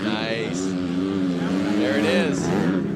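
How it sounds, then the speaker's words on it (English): A stock Honda 250F dirt bike engine revs hard as it launches up a steep hill climb at a Harley-Davidson hill climb event, a steady rising drone that holds loud throughout. "you could just hear the difference in the engines when they take off"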